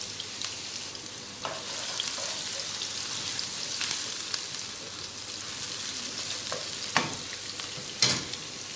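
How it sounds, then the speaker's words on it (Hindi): Chopped onion sautéing in a pan for keema do pyaza, a steady soft sizzle with occasional stirring scrapes and clicks, fairly close and without talk. "और 1 प्याज मैंने चॉप करके रखा हुआ है। इसको हल्का सा सौटे करेंगे"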